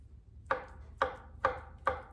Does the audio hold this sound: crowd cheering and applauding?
no